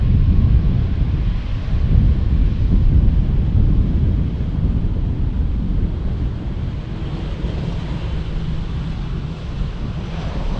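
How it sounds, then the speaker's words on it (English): Steady wind blows at Amsterdam Schiphol Airport beside runway 18R, roaring as continuous low buffeting against the microphone for the whole stretch, with no other clear sounds. "Wind is blowing from the southwest."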